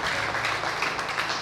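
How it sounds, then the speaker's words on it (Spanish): A church congregation applauds for Jesus Christ during a worship service, a dense, steady wash of many hands clapping together at close range with no pauses. "Denle fuerte palmas a Jesucristo"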